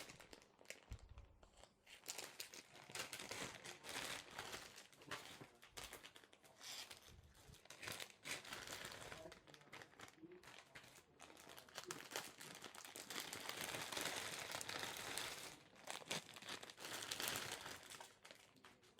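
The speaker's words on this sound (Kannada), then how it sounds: "ಇಲ್ಲೂ ಎಲ್ಲ ಚಾಕ್ಲೇಟ್ಸ್ಗಳನ್ನೆಲ್ಲ ಓಪನ್ ಮಾಡ್ಕೊತೀನಿ." Wrappers on chocolates brought from Dubai crinkle and crunch near the microphone as they are unwrapped, in busy, irregular rustling bursts throughout, quiet overall and with no talking.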